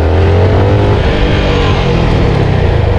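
A CFMoto 300 NK motorcycle rides and accelerates through the city. A loud, close engine drone holds steady the whole time, with rising pitch under wind rush and no talk.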